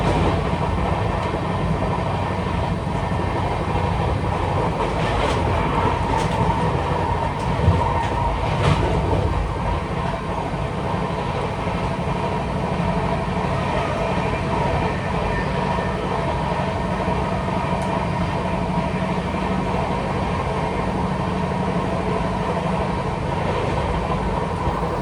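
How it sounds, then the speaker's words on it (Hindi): Steady, loud rumble and rhythmic clatter of a Tejas Express running on the track, heard from inside a coach with the windows open, continuous throughout with faint metallic clicks and no talk. "ट्रेन की खिड़कियाँ अगर खुली होती है तो ट्रैक साउंड एकदम से अलग आती है।"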